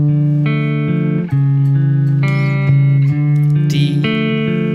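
A looped chord progression of sustained triads used for ear training, played as clean, loud held chords that change every second or so, with no talking.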